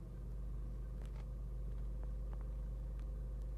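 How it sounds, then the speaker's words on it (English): A 2015 Porsche Macan's engine rumbles low and steady from inside the cabin with off-road mode engaged, a constant deep drone with a few faint clicks over it. "I heard something start to rumble more"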